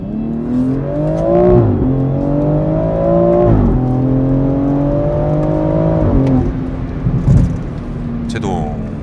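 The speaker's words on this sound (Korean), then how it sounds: "이 가속했다가 발을 뗐을 때가 굉장하네요" Inside a BMW X3M SUV, the engine revs up in repeated rising pulls with gear shifts between them, a loud, close drone with someone talking over it.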